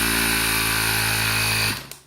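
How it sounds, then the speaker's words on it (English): Small air compressor pressurises the gear tank of a model aircraft, a loud steady electric hum and buzz close by that stops abruptly near the end, followed by a faint click. "So I'll just use my compressor here on the side."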